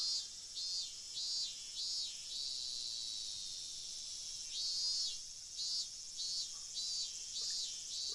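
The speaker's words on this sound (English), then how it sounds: "Outside, it was still early enough for the cicadas to be crying." Cicadas droning in the video game Higurashi, a loud, steady high buzz pulsing in repeated swells with no talk.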